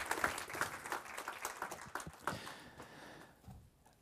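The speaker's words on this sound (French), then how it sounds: "On peut l'applaudir aussi." Scattered applause from a modest audience at a startup event in Belgium, individual claps audible in an uneven rhythm that thins out and fades toward the end, fairly quiet.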